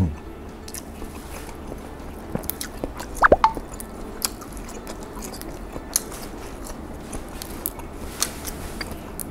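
Someone bites and chews a partially developed chick egg, with moist squishy bites and small crunches scattered over several seconds against a quiet room background.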